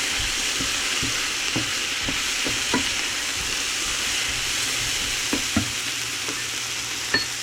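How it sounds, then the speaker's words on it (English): Sliced shiitake and oyster mushrooms sauté together in a pan with shrimp, giving a steady close sizzle and frying hiss, broken by occasional clicks and scrapes of a utensil stirring. "So I'm going to saute all this together."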